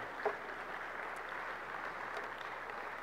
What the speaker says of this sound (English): give Randy a round of applause